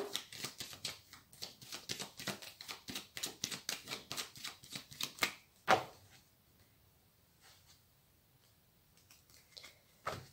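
Playing cards riffled and cut on a table: a rapid run of crisp flutters over about five seconds, then one sharp slap, followed by near silence with a few faint handling ticks.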